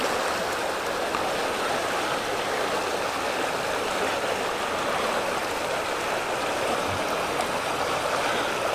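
Water rushes from a broken water main while a worker tries to shut it off, a loud, steady broadband roar with no pauses and no talk.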